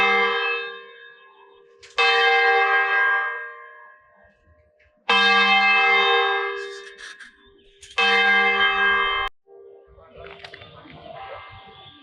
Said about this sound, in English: Ringing of the bells at noon on Sunday.